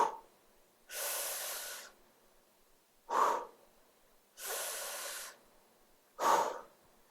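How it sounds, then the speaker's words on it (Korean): Forceful breathing during a dumbbell side lateral raise: two long hissing exhales alternate with two short, sharp inhales in a steady rhythm, close and clear with no talk. "올리면서 후 내쉬고 내리면서 들여 마시고 후"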